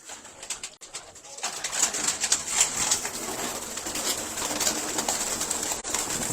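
Several pet pigeons offered for sale coo steadily at close range, a continuous soft rolling murmur from a flock with faint wing shuffles, no talking.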